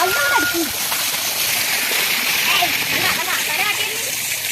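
Water splashing and sloshing steadily as large buffaloes are bathed in a pit during the dry season, with water being thrown over them, the splashes broad and continuous under a voice talking.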